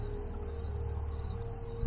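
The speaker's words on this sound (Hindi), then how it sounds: "झींगुरों की आवाज जंगल में गूंजने लगी।" Crickets chirp steadily in a quiet night setting, a continuous high pulsing trill over low background hum.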